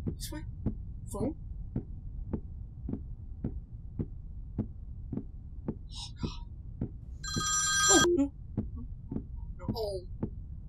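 In a horror video game, a telephone rings in a short metallic burst over a steady, evenly spaced thudding pulse like a heartbeat, with a voice speaking intermittently in the background.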